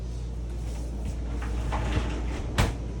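Bathroom door of a 2022 East to West Alta 3150 bunkhouse travel trailer with a deadbolt lock being handled, giving soft creaks and rattles and one sharp latch click near the end, close and fairly quiet over a steady room hum.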